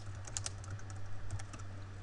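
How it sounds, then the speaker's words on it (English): Quick, light clicks of a computer keyboard being typed on, irregular taps close up over a steady low hum. "type a description on the image, click insert"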